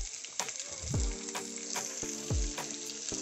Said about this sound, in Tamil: பண்ணாலும் ஃபஸ்ட்டு இந்த மாதிரி நீங்கள் எண்ணெயில் போட்டு வதக்கிடணும்.